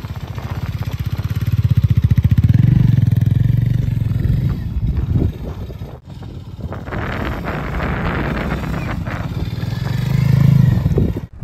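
Hero Mavrick 440 motorcycle ridden off-road, its engine loud and close with throttle swells and deep revving, rough with wind buffeting the microphone and a brief dip midway before climbing again.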